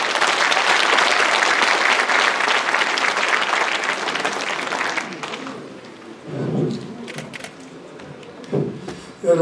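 An audience gives loud, dense applause at the inauguration ceremony of the Sejong City Sports Council chairman. The clapping lasts about five seconds, then fades into quiet room sounds and a few scattered bumps.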